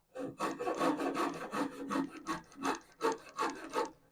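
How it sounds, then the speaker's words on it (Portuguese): A small hand saw cuts through soft wood for a ping-pong table, giving a close, rhythmic rasp of about a dozen quick back-and-forth strokes with no talk. "Esse serrotinho é muito bom, cara. E ainda a madeira macia assim,"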